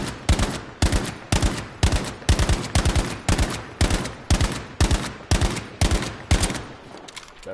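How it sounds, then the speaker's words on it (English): Battlefield 5 gunfire, heard as repeated sharp bursts of rapid shots at a regular rhythm, loud and close throughout, with no talking. "That was a burst of shooting."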